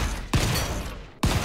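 Two sharp gunshots from the steampunk survival game Volcanoids, spaced about a second apart, each a loud punchy crack over steady background game ambience.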